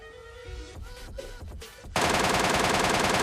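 Shooting-game gunfire hitting an enemy: after a quieter stretch of scattered game sounds, a sudden loud, dense stream of rapid automatic shots kicks in and continues to the end.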